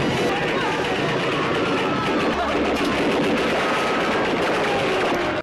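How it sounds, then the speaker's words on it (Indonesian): Gunfire crackles in a film scene where two men shoot at bandits who have hijacked a train, heard as dense, continuous bursts under a narrator's steady voice. "Kemudian datanglah Ching dan Loi yang langsung menembaki para bandit tersebut."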